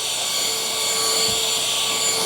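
A Shark CH701 handheld cordless vacuum runs close up with a steady high whine and airy roar while sucking up crumbs, a brief low rattle in the middle.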